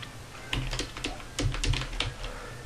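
Keys clatter in short irregular bursts on a computer keyboard while cell entries are typed into a spreadsheet, with Tab pressed between words, close and fairly quiet, with no voice.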